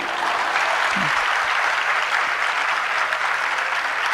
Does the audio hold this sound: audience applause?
yes